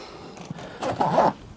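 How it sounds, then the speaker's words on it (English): Zipper closing along the top of a Cripop 13 inch onsite tool bag, a brief scratchy zip that swells near the end, close and clear with no talk. "the zipper opens each way,"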